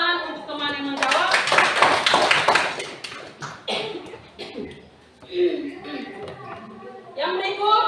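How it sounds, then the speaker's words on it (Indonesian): Classroom clapping breaks out for a student who answered in a biology lesson on the body's defence system, a burst of scattered hand claps over roughly two seconds, with a teacher talking before and after. "kita tepuk tangan untuk teman yang menjawab"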